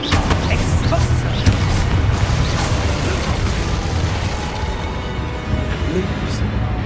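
An explosion spell goes off in the Hogwarts Legacy video game, a loud, dense booming rumble that fills the whole stretch with steady blast noise and no pause.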